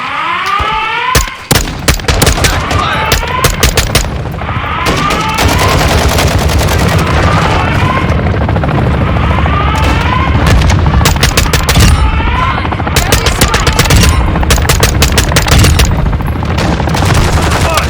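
Gunfire in the video game Warzone 2 DMZ: loud, close bursts of automatic weapon fire, rapid cracks repeating in clusters over a continuous din, with radio-style voices mixed in.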